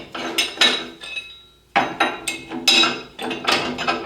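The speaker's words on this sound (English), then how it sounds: "This is another clamp." A metal clamp being fitted onto a cast iron bandsaw table extension, with a series of sharp metallic clanks and clicks in two bursts separated by a short pause, close and clear.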